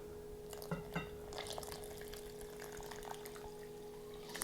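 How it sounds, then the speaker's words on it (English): Warm milk pours into a bowl of flour for no-knead sandwich bread, a soft trickling splash with a few light taps near the start, close and fairly quiet over a steady background hum. "And so then I'm just going to add my milk."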